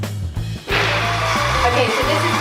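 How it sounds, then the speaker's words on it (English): A food processor blitzing nuts for seedy snack balls whirs steadily and loudly after a brief sputter at the start, its motor drone continuous and close with a rough, gritty texture. "we're going to switch the food processor on and just let them blitz up until they're pretty smooth"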